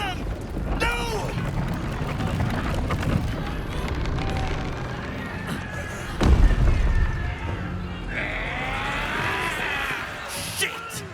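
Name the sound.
cannon fire in a video game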